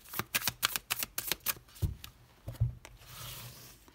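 Oracle cards for a tarot-style reading are shuffled by hand, a quick run of crisp riffling flicks followed by a couple of softer taps and a faint rustle, close and without speech.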